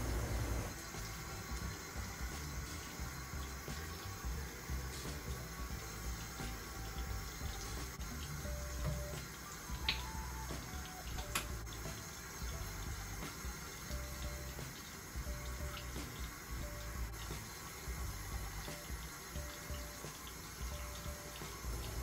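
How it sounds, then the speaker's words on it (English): Tap water runs steadily into a bathroom sink during face washing and tooth brushing, a constant close hiss and splash with faint clinks and no talking throughout. "meanwhile, I wash my face and I brush my teeth"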